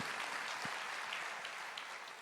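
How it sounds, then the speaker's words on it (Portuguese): A church congregation applauding during a Portuguese-language sermon, a continuous wash of clapping from many hands at moderate distance, fairly even throughout. "pode aplaudir"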